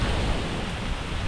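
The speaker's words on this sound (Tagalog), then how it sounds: "Lakas ang ulan!" Heavy rain pours by a river, a dense, loud, steady roar of broadband noise filling the whole moment without any voices.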